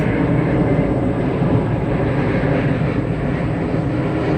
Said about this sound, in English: I think that's like the airplane that's flowing overhead